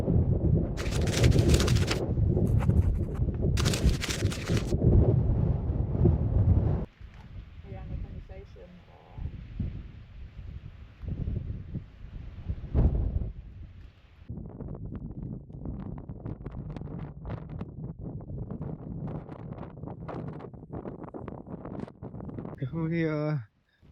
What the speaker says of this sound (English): it's a bit of a chilly, windy one